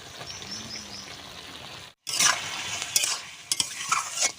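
Soaked chickpeas drop into a hot pan for a potato curry. A brief hush gives way to a bright, loud sizzle, followed by several sharp stirring scrapes against the pan.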